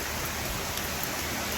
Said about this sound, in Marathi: असा पाऊस दाखवलाय